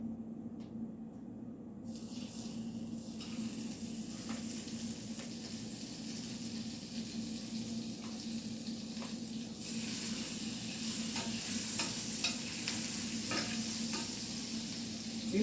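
Butter sizzles in a pan while French toast fries, a quiet steady crackling hiss that swells louder partway through, with occasional small clicks and scrapes and no talking.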